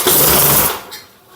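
A 1990s Lawn Boy Silver Series lawnmower engine sputters and coughs in a brief loud burst of rough popping, then drops off quickly toward quiet.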